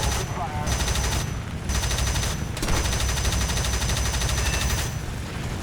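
Aircraft cannons on a La-5 fighter fire continuous rapid bursts in the combat flight game War Thunder, a loud, steady rattle of gunfire that runs almost without a break over a constant engine drone.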